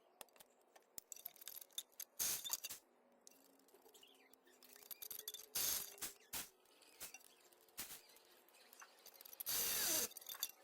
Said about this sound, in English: I'm going to try to see if I can use my impact wrench to speed up the process